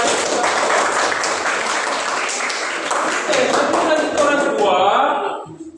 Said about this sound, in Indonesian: yang berikut kita beri aplaus kepada kelompok 3